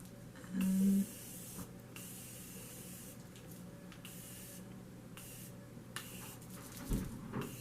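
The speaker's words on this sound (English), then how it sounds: "I'll be using the Morphe setting spray." A single short burst of Morphe setting spray hisses close by from an aerosol, followed by quiet room tone and a faint second puff near the end.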